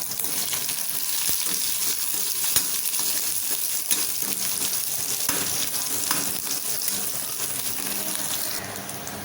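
Chopped onion sautés in hot oil for a cabbage kootu, giving a continuous crackling sizzle broken by occasional sharp clicks of a stirring spoon against the pan.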